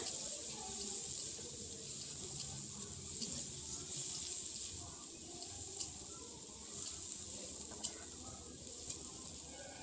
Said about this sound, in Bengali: তো এখন ভেজে নিচ্ছি ভালো করে।